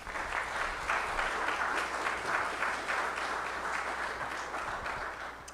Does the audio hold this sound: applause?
yes